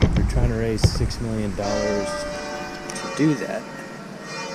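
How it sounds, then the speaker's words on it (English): A church bell in Castries, St Lucia, rings with long, resonant tones, softened by distance, while someone talks over it. "You can hear the church bell going off in the distance."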